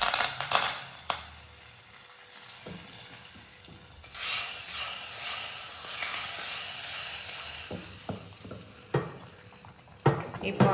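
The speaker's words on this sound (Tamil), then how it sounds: "இப்போ கருவேப்பிலையை போட்டுட்டு தாளிச்சதை அப்படியே ஊற்றிடலாம்" Curry leaf tempering poured into sambar rice in a pot, a sudden loud sizzling hiss bursting up and fading over a few seconds, with stirring and utensil clinks around it.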